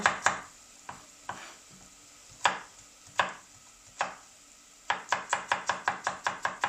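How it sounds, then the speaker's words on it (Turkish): Knife chopping potatoes into small cubes on a board for a kale soup: sparse single cuts at first, then a quick regular run of close, crisp chops at the end. "hemen patateslerimizi küp küp küçük küçük doğruyoruz arkadaşlar"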